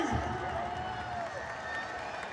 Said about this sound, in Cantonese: Thank you, dancers！ 俾啲掌聲